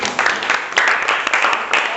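Brief audience applause in a classroom-style session, a short burst of uneven clapping from a small group that stays fairly steady for two seconds.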